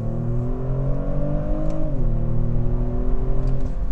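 A Kia Stinger GT pulls hard under acceleration, its engine drone climbing in pitch, then dropping sharply at a quick automatic gear change before building again. The engine is loud and close, with no talking.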